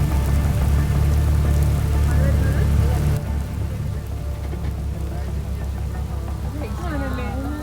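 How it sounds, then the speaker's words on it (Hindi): Heavy rain pours on a mountain top near Kodaikanal in a dense, steady hiss. A voice speaks over it partway through. "बारिश काफ़ी तेज़ हो रखी थी, रुक नहीं रही थी।"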